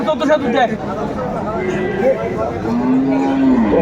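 Cattle moo at a busy rural livestock market in Dinajpur, with a long drawn-out low call standing out near the end over steady crowd chatter and voices talking close by.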